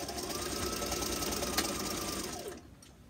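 Sewing machine stitching elastic onto a fabric face mask, a steady fast mechanical whir for about two and a half seconds that cuts off, close and moderately loud, no talk.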